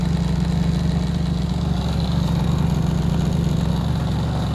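A washing machine spinning at up to 1200 rpm while drying a rug, a loud steady motor hum with a low rumble that holds constant throughout, with no voices.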